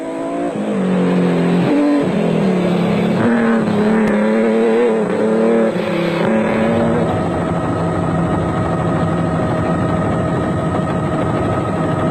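BMW 540 B8-powered Jimco off-road race car in a desert race, a loud close engine revving and shifting with rising, falling pitch early, then settling into a sustained hard-driven roar.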